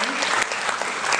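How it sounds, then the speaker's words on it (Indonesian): Audience applause fills a seminar hall, a dense, steady burst of many hands clapping together at close range, with no talk over it. "Tepuk tangan dong buat kita semua."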